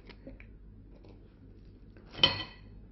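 A spoon clinks once against a milkshake glass as coffee is added, a single bright metallic tap near the end, with faint quiet surroundings before it.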